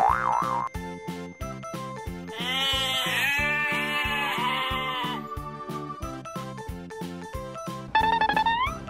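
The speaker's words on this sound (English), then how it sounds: "Goat." Cartoonish goat bleats, a wavering high-pitched call sounding twice amid a loud, busy children's-song backing with bouncy percussion and a boing-like effect.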